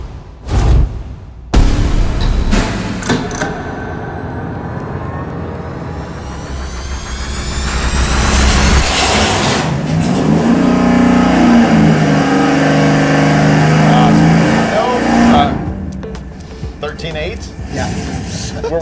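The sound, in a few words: V8 engine on dyno fired up with Victor Jr. single-plane intake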